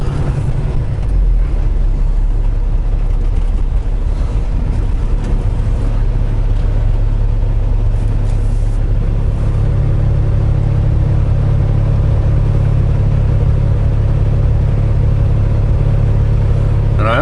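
A semi truck idles and then pulls away from a truck stop wash bay, a loud, steady, low diesel rumble close by that thickens as it moves off, with no talk.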